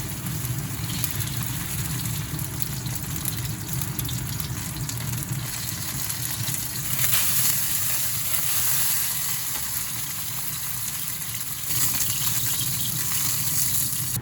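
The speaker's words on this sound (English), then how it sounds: "After frying, we fish them out and start frying the second batch." Chicken breast cubes fry in hot oil in a pot with a steady, crackling sizzle that swells slightly at moments, continuous throughout with no talking.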